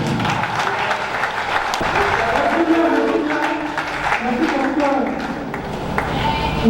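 A political congress audience in a hall claps and cheers in sustained, dense applause with crowd noise, while voices call out and speak over it.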